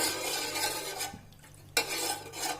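A spoon stirs salt into water in a pot while making homemade cheese, giving soft, close scraping and swishing strokes with a brief pause midway.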